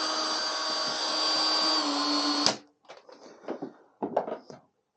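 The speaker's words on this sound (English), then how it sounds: "this drill has got a sort of lock-on setting so that when you pull the trigger you can press a button so it stays on" A power drill with its trigger locked on, used for making cut-glass punties, runs loud and steady for about two and a half seconds, then cuts off, followed by several short handling knocks and clatters.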